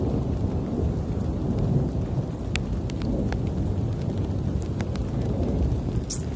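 A passing thunderstorm pours steady rain and rolls thunder close by, a dense constant wash of rainfall with rumbling underneath and scattered sharp drop impacts, with no voices.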